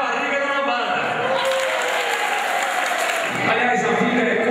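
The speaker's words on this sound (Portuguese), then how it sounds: "Para o bom cabelo, uma salva de palmas." Sustained applause from an audience of elderly people at a talk-show event in Guaporé, RS, as steady, loud clapping with a voice briefly audible at the start and a swell toward the end.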